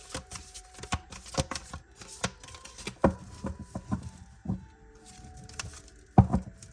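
Tarot cards being shuffled by hand, a series of crisp riffling bursts and soft taps at an irregular pace, close and fairly quiet with no talking.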